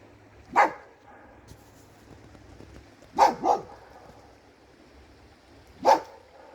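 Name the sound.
dog barking at ducks across a river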